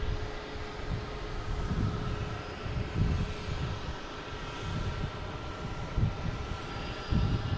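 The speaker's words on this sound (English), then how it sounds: "But these planes keep coming in." Steady broadband jet roar of airplanes landing at Boston Logan International Airport, a continuous rumbling wash at moderate distance with slight swells, no voices.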